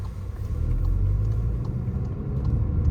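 A Volkswagen GTI with a six-speed manual gearbox, its engine a steady low rumble heard from inside the cabin, holding an even drone with slight swells and no voices.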